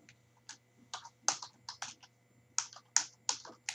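Typing on a computer keyboard while writing Fortran code, a run of separate, crisp key clicks at an irregular pace, close and fairly quiet, with no talking.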